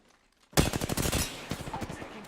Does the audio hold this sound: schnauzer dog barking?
no